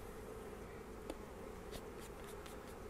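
Honey bees at a backyard hive in December make a faint, steady buzzing drone that continues throughout, with a few brief, slightly louder passes as bees fly close.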